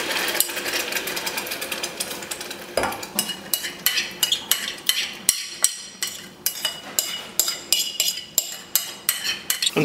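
Tomatoes cooking in a pan for homemade pizza sauce, with a steady sizzle under a quickening series of sharp clattering knocks as a utensil stirs and scrapes against the pan.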